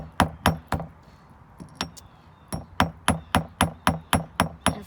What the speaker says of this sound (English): then they would peen it, which is when you make the top sort of look like a mushroom shape